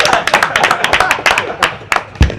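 Meeting attendees clap in a brief, close burst of separate hand claps, irregular and sharp, over about two seconds.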